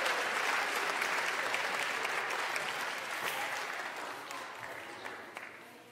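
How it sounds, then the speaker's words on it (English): Applause from a church congregation at a Palm Sunday service, a sustained wash of many hands clapping that gradually tapers off toward the end, moderately distant. "Maybe give them another round of applause."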